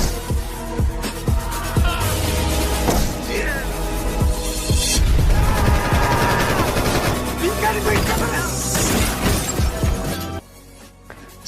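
Rapid bursts of gunfire in a film crack repeatedly amid a chaotic, dense soundtrack of impacts and clatter, with brief voices mixed in, ending abruptly.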